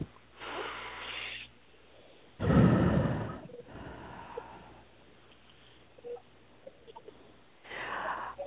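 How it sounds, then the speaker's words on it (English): A person taking a deep breath during a calming exercise, a loud close inhale and exhale rush with softer breathing before and after, no talk. "take a deep breath"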